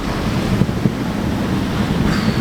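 Strong wind of around 20 knots roars steadily across a sailboat at night at sea, with choppy waves washing and slapping continuously close by, all under heavy wind noise on the microphone.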